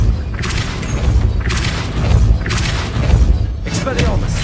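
Repulsor spell blasts from Hogwarts Legacy, four heavy booming thumps in a steady rhythm about a second apart, loud and close, each with a crashing burst of debris.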